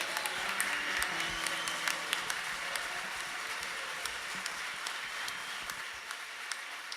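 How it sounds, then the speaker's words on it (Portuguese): A church congregation at a leaders' gathering applauds, a soft, distant-sounding patter of many hands that stays fairly even with occasional sharper claps. "Aplauda ao Senhor"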